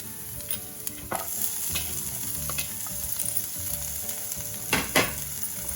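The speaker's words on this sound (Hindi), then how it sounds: "अब ऑनियन को भी भून लेते हैं।" Onions sauté in a pan for veg manchow soup, giving a constant close sizzle with scattered clicks and scrapes as they are stirred, with no talk.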